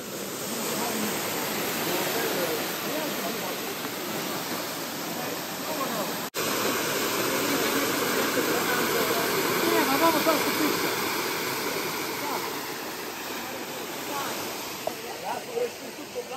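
A waterfall fed by hot springs in Krabi, Thailand, pours with a steady, dense rushing hiss, close and constant throughout.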